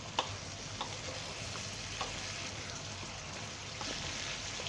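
Chicken keema being stirred in a large pot, a soft continuous sizzle broken by a few light spoon clicks and scrapes against the metal, close and quiet with no voices.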